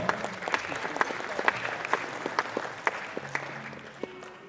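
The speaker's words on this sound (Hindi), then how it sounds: "आइए साथियों, बिना कोई समय दिए जोरदार तालियों से स्वागत करें सुभाषिष रॉय और उनके पुत्र विश्वित रॉय जी" Crowd applause welcoming a father-and-son pair of performers at a music event, steady moderate clapping from a fairly distant audience with a few sharper individual claps standing out.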